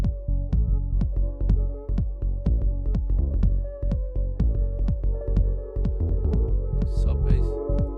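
Duplicated bass line with a high-pass filter cutting everything below 200 Hz plays in a steady minimal house groove, with a regular pulsing beat and dense repeating hits throughout.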